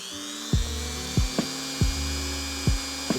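Dremel rotary tool at its lowest speed grinding lightly against a Steam Deck button, a steady motor whine with five sharp bursts of contact at regular intervals, close and fairly loud.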